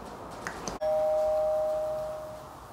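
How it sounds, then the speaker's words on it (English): A Sonoff smart wireless switch button sets off a doorbell chime: one click, then a single sustained electronic tone rings out clearly and slowly fades, with no talking. "there is somebody at the door and they just pressed the doorbell button"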